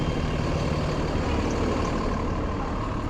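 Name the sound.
city bus on a Brooklyn street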